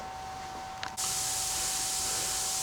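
Compressed air from an air compressor blasts loud and close as RZR side-by-side parts are blown clean, a steady hiss starting abruptly after a brief quieter moment.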